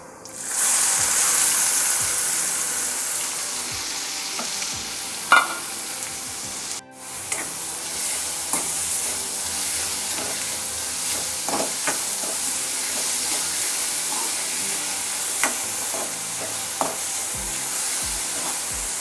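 Onion being stir-fried in a pan for dhaba-style paneer masala, a steady loud sizzle with occasional scrapes and clicks of stirring throughout, no talking.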